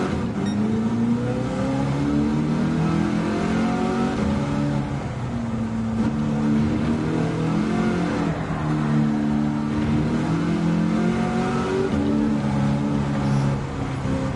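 Engine-swapped Mustang Mach 1 in Gran Turismo 7 accelerating steadily, its engine note climbing through repeated gear shifts in a continuous loud drone with rising and falling harmonics, no talk.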